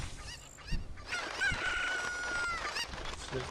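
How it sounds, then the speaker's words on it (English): Chickens in the video game The Legend of Zelda: Ocarina of Time cluck and crow in short, bright, close calls, one after another, with no talk over them. "I'm just gonna corral these last 2 chickens"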